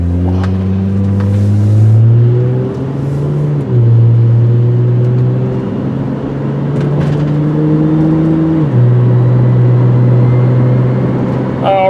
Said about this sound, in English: you can probably hear that exhaust as well